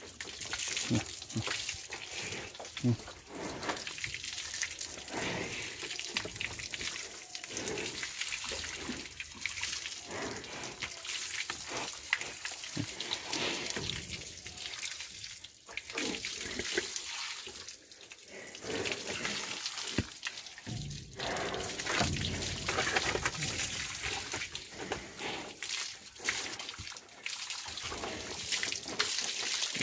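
Water is poured over a buffalo being bathed: steady running and splashing water continues close by for the whole stretch, with no clear talk.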